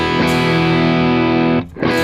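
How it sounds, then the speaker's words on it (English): An electric guitar with a light overdrive tone from a Line 6 HX Stomp preset rings out as a loud sustained chord, briefly cut off and then struck again, alone without talk. "a light overdrive sound"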